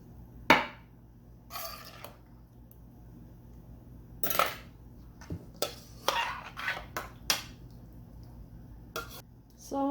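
Zucchini boat filling gets stirred in a bowl, with scattered sharp clinks and scrapes of a utensil against the dish at irregular intervals, fairly close, between quiet gaps.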